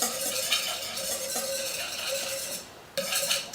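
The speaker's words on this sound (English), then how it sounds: "I'm gonna stir a little bit more just to get that lemon juice in there." A whisk or spoon stirring lemon juice into hollandaise sauce in a bowl, giving a continuous scraping, clinking swirl with repeated strokes and a brief pause near the end, close and moderately loud with no talking.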